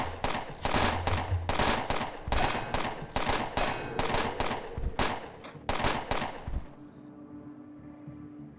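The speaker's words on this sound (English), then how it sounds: "sure would be a shame if I activated the security turret for funsies" Security turret in Underrail firing long rapid bursts of automatic gunfire, sharp repeated shots in quick volleys for about seven seconds before cutting off into quiet mechanical hum.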